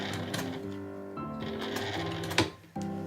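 A sewing machine backstitches fabric for a tetra-shaped zipper pouch made from scraps, running as a steady close mechanical whir with a brief pause and restart near the end.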